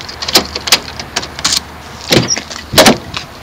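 A 2001 Land Rover Discovery's door locks release as a freshly cut replacement key is used, a close series of sharp mechanical clicks and thunks spread over a few seconds, with soft outdoor background between them.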